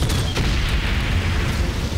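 Heavy, rumbling explosions in the World War I game Valiant Hearts: The Great War, a continuous loud boom with low roar and a couple of sharper bursts early on, close and dominant.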